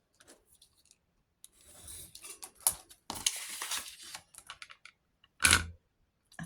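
Scissors snipping through paper in short, quiet, irregular cuts and rustles, a few sharper crisp snips standing out, close by with no talking.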